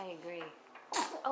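A small, sharp sneeze bursts out after soft speech, followed quickly by an adult voice talking.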